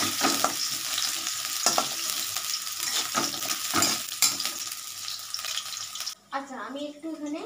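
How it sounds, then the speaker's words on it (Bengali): Potatoes frying slowly in hot oil in a pan at home, a steady close sizzle with stirring scrapes throughout, cutting off near the end into a brief quieter moment. "আলুগুলো আস্তে আস্তে ভাজা হোক,"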